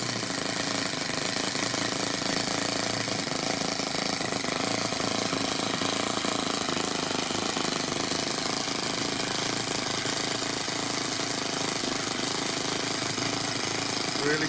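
A Toyan FS-S100A miniature four-stroke model engine idles very low, giving a steady, dense mechanical chatter with rapid rhythmic firing that stays even and fairly loud throughout, with no talk over it.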